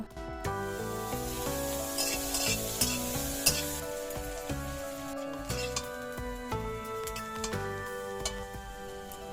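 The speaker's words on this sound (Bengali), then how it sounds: "একটি বড় সাইজের কেটে রাখা পেঁয়াজ তেলের মধ্যে দিয়ে দিলাম। এবার পেঁয়াজগুলিকে কিছুক্ষণ নাড়াচাড়া করব।" A large batch of chopped onion sizzles in hot oil in a pan while a spoon stirs it, with a steady hiss and repeated scraping clicks, close up and with no talking, during rustic-style paneer butter masala cooking.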